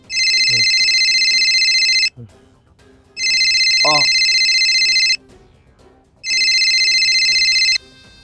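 A phone rings in three long electronic bursts separated by short pauses, loud and close, with faint background noise between rings.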